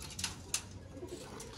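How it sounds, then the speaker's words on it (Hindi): A five-year-old champion pigeon gives soft, faint coos and rustles in a short, quiet stretch. "ये लें जी दोस्तों, 5 साल का चैम्पियन कबूतर कैसा होता है"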